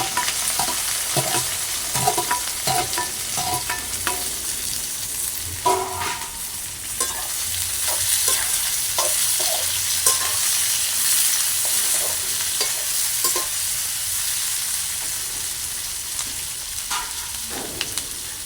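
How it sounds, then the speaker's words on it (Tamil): Chopped onions and green chillies fry in hot oil for a fried rice dish, a steady sizzle running underneath while a spoon scrapes and stirs the pan in scattered taps and clinks. "நாங்கள் வெட்டி வச்சுருக்கோம் கம்பா வெங்காயத்தையும் சேர்த்துக்கிறோம்"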